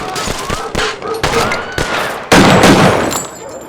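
Gunfire rings out in a scene from the TV series Fargo: a handful of sharp, loud shots with distinct cracks, the last burst longer and heavier, and no talking over them.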